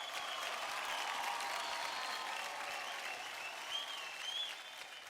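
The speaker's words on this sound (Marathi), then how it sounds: "एकदा जोरदार टाळ्या होऊन जाऊ दे आपल्या मास्टर सोनियासाठी" A studio audience on a Marathi television dance show applauds dance master Sonia, a dense, sustained burst of clapping from a large crowd that holds steady for several seconds and eases slightly at the end.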